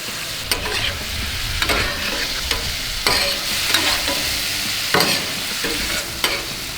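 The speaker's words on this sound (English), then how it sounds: "Now let's go in with some butter. Put that on there." Steak sizzling with butter and soy sauce on a hot Pit Boss griddle, a steady loud crackle with clacking spatula strokes breaking through at intervals, close and without talk.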